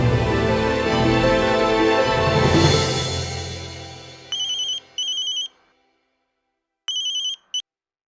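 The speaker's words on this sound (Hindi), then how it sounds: "अर्नब, जानती हूँ आपने फोन क्यों किया है" A phone ringtone chimes in short bursts, two rings then a pause and two more, after a fading wash of music; clear and close.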